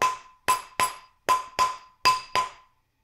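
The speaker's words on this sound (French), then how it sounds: "avec un marteau de peau" Seven sharp rawhide mallet strikes on metal in an uneven rhythm, each a bright ringing clank that decays quickly, close by with no talking.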